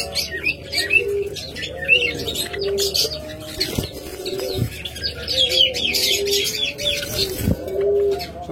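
Caged budgerigars, diamond doves and lovebirds at a bird sale fill the air with constant chirping and chattering, soft dove coos running underneath, and occasional wing flutters close by.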